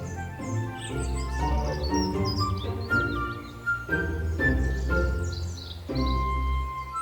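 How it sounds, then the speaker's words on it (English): Garden birds chirp and sing in abundance, a dense mix of overlapping high tweets and calls carrying on throughout over a steady low rumble of background noise. "in this episode, we promised you garden birds, and here they are in abundance"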